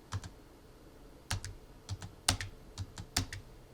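Light clicks of typing on a computer keyboard come in short bursts of a few keystrokes separated by pauses, close and fairly quiet with no talk.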